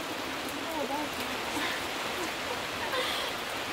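Rain falls outdoors as a steady, even hiss of drops hitting surfaces, constant and fairly close throughout, with faint higher chirps scattered above the wash.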